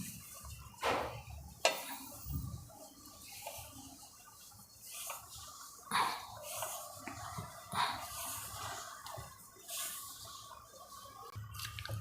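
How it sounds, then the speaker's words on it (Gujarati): Dough for corn and carrot parathas being kneaded by hand with oil and small splashes of water, giving quiet, irregular wet squelches and occasional soft knocks against the bowl, with no one talking. "થોડું થોડું પાણી નાખી અને આપણે લોટ બાંધી લેવાનો"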